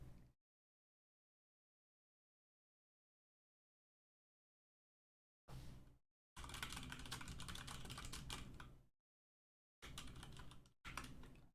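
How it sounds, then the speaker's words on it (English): Bursts of typing on a computer keyboard during a painting livestream, close and crisp, separated by long silent gaps, with one longer run of rapid keystrokes in the middle. "I'm typing to Basilisk because they can't hear me"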